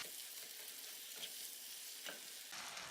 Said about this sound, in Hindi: और इसमें उबला हुआ मटन डालकर थोड़ी देर भूनें।